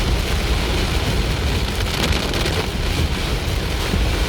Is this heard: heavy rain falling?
yes